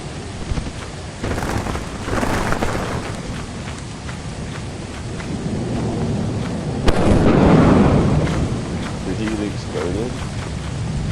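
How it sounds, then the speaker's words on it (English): A booming explosion in the video game Lethal Company rumbles loud and deep, swelling midway under excited voices of players talking over it. "Exploded."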